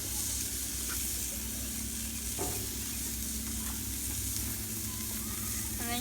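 Burger patties frying on a grill give a steady, close sizzle and hiss throughout, with a few brief spatters and scrapes over a low background hum; no voices.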